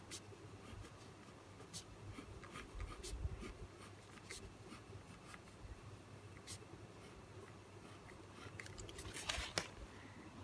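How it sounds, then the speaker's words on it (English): A pen writes a name on paper, with quiet, scratchy strokes in short bursts against a soft background hum. "I'm writing my name here."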